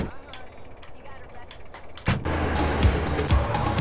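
Gunfire from the video game GTA San Andreas breaks out after a quieter stretch with scattered sharp clicks. From about halfway a loud, dense burst of shots and rumble plays on to the end, with a voice speaking beneath it.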